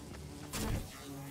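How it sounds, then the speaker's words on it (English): Bees in the video game Fortnite: Save the World give a low, steady insect buzz with a brief louder swell midway, heard alone without speech. "Those bees."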